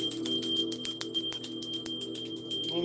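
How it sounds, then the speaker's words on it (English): A bell is rung repeatedly in quick succession, its bright shimmering tones overlapping into a sustained, ringing wash that stays loud and close throughout. "let's ring the bell."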